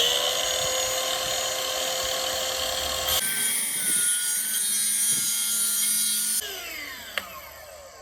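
A plunge saw cuts through an MDF board with a loud, steady high-pitched whine and rough cutting noise, the tone shifting twice as the blade works back and forth, ending with a sharp knock.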